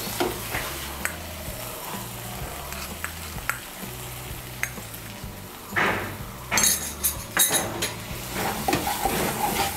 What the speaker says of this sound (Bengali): মশলাটাকে আমি আরেকটু ভালো করে কষিয়ে নেব